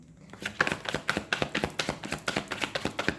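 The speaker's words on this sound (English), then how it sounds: "I'll do one more shuffle." Tarot cards shuffled by hand, a quick regular run of close crisp taps and riffles with no voice over it.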